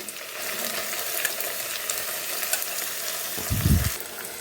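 Onions fry with a continuous loud sizzle as cooked raw mango and dal are added and stirred in, bringing a burst of heavier, lower frying noise near the end.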